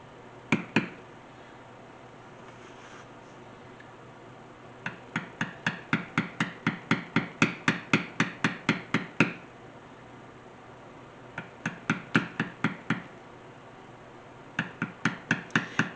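Sharp, close wooden-mallet taps strike a metal beveling tool on leather, arriving in quick rhythmic runs of a dozen or so hits, separated by short pauses, with no talking.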